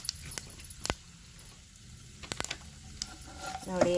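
Cashews and raisins frying in hot tempering oil for avalakki oggarane make a steady close sizzle, with sharp crackles and pops, a brief scrape near the end and no speech.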